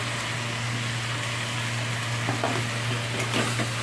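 Spices with turmeric fry in a pan with a steady, close sizzle throughout, joined by a few light stirring scrapes toward the end.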